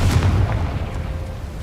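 Confringo fire spell exploding in the video game Hogwarts Legacy, a loud heavy boom at the start that rolls into a dense rumbling tail fading slightly over about a second and a half, no talk.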